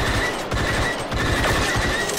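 Rapid blaster fire from a Star Wars Battlefront 2 weapon crackles in a dense, continuous burst of shots, loud and close, with no voices over it.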